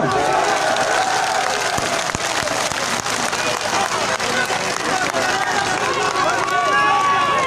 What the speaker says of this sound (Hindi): शहरियार के लिए तालियां।